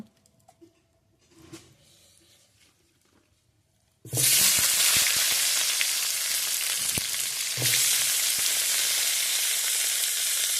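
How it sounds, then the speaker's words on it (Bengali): A little oil in a wok, then potato and eggplant pieces go in: after about four seconds of near quiet a loud, dense sizzle bursts up and stays steady to the end, with a few soft knocks. "এখন কড়াইতে আমি তেল দিয়ে দিলাম অল্প করে। আলু আর বেগুনটা ভেজে নেব।"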